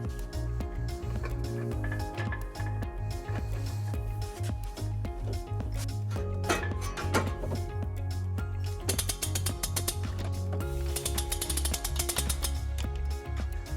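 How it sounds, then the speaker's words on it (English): U-Haul hitch jack ratcheting a heavy trailer hitch into place under a 2019 Toyota Sienna, a continuous run of close, rhythmic mechanical clicks and grinding pawl ticks with occasional metallic clanks. "We will be using our U-Haul exclusive hitch jack."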